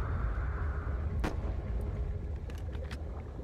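Gunfire in the Black Ops 3 custom zombies map Leviathan: one sharp shot, then a few quicker ones later, cracking over a steady low rumble of game ambience.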